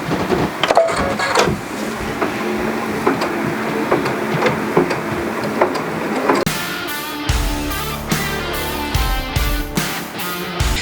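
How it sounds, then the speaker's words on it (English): Embroidery machine sewing placement stitches for Velcro on a fabric bandage, a steady close mechanical whirring and ticking that shifts partway through into a faster, more tonal stitching rhythm, with no talking. "We're gonna head back to the machine and do the placement stitches for the Velcro on the top"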